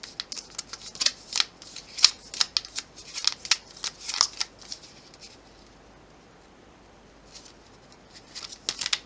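Tarot cards shuffled and tapped straight by hand, a close run of quick crisp riffles and taps, then a pause and a few more brief taps near the end.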